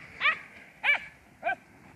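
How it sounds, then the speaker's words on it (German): A dog barking outdoors, three evenly spaced, fairly high yappy barks, moderately close and otherwise alone over faint background noise. "Der Buddy bellt"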